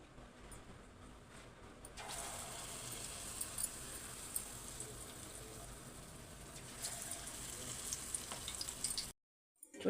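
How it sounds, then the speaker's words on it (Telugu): Chickpea flour chilli fritters (mirchi bajji) fry in hot oil with a steady, close sizzling hiss that swells after a couple of seconds and runs continuously before cutting out near the end. "మిగిలిన పిండితోటి అయితే మనం మిర్చి బజ్జీ అయితే వేసుకుందాం."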